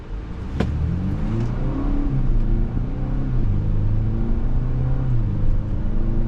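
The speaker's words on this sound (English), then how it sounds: "The engine picks up, gets the vehicle moving." A 2025 Acura RDX A-Spec Advance SUV engine hums steadily and climbs in pitch as it accelerates in normal mode, heard from inside the cabin with a constant low rumble.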